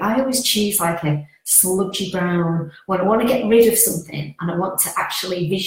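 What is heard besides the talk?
No everyday noise stands out behind the speech.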